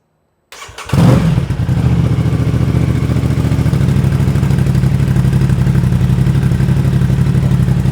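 After a moment of silence, an Aprilia Tuono 660 motorcycle with an aftermarket exhaust cranks and fires up with a loud bark, then settles into a steady, throaty idle close by.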